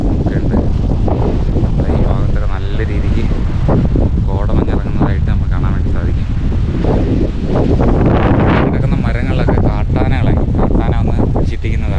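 Strong gusting wind with thick mist on a mountain trail to Agasthyarkoodam buffets the microphone in a constant heavy roar, with rustling and brief muffled voices underneath.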